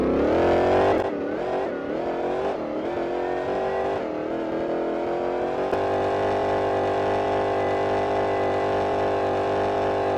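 Offroad truck engines in the Roblox game Vehicle Legends drone loudly at top speed, a steady high engine tone with a few early pitch swings as gears shift, then a sustained even whine to the end.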